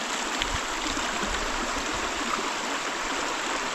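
A Carpathian mountain stream rushes steadily nearby, a constant bright hiss of flowing water with small gurgles and no voices.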